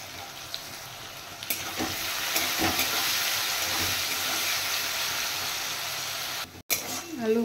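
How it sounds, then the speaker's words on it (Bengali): Diced potatoes fry in a pan with a loud, continuous hissing sizzle that holds steady for several seconds, then breaks off abruptly and is followed by a short clatter. "এবার আমি দিয়ে দেব আলু, গুট গুট করে কেটে রেখেছি, ভেজে নেব।"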